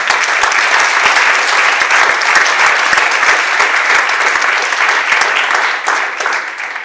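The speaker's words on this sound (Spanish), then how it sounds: "¿Le puedes dar un aplauso por eso?" A church congregation at a Monday sermon breaks into loud, dense applause that holds steady for several seconds, then starts to thin out toward the end.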